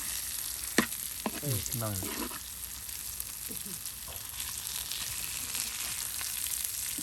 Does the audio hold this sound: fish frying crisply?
yes